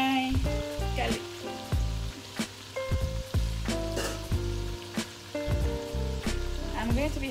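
Garlic frying in a pan for a Nigerian tomato stew gives a steady sizzle with scattered crackles, running under continuous background music.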